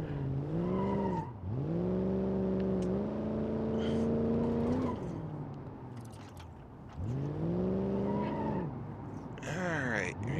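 A Dodge Coronet 383 driven in BeamNG.drive, its big engine droning and revving in long pulls that drop off and climb again, with tire squeals and scrapes between, close and loud under speech.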